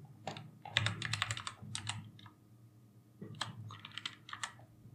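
Someone types a URL on a computer keyboard in two quick bursts of close, crisp key clicks separated by a short pause, with no talking.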